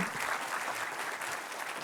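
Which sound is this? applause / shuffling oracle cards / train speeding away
applause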